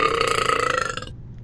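A single long, rattling burp, loud and close, pulses for about a second before cutting off into near silence.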